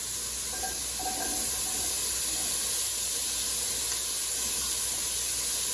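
Fresh red pepper sautéing in a pan for turkey curry, a steady soft hiss and sizzle that runs continuously and evenly throughout at moderate level.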